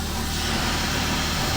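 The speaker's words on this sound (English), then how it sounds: "That's the sound of beauty of the car wash." Car wash machinery runs steadily at a self-service car wash, a loud, continuous broadband rush of spraying water and motor noise with a low hum underneath, unchanging throughout and with no voices.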